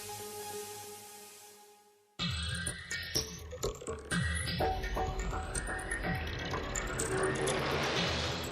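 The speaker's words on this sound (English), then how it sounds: "Then automated machines install the remaining components." Automated factory machines installing the remaining zipper components, a faint hum that cuts out and then gives way to dense rapid mechanical clicking and ratcheting, with repeated clacks building over several seconds.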